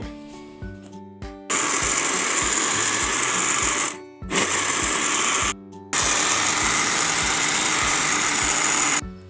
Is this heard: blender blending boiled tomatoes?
yes